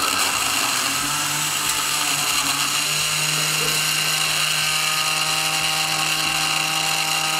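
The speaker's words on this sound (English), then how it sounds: "the machine is going to whisk the cream for the ganache" An electric stand mixer whisks cream for a ganache, giving a steady, loud motorized whir with a constant hum that runs unbroken throughout, close by and without talk.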